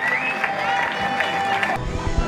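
A crowd applauds and cheers young first-year cyclists at the Coppa di Sera race celebration in Borgo. There is a steady, dense wash of clapping and crowd noise, with a voice carrying over it throughout.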